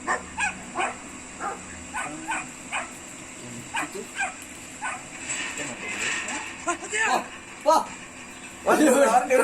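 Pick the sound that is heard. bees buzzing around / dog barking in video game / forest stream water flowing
dog barking in video game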